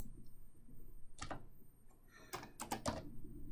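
A few scattered keystrokes tap out in small bursts over a quiet room background, with short pauses between clicks.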